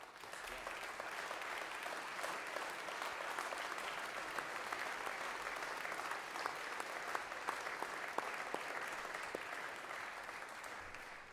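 Sustained audience applause at a school headmaster's gathering for Shawman participants and organizers, an even, fairly distant roar of clapping lasting over ten seconds without a break.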